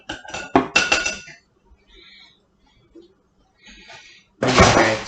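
Paintbrush rinsed in a water glass, with bright clinking taps of the brush against the glass in a quick cluster, then quiet, then another burst of sloshing and clinking, close and fairly loud.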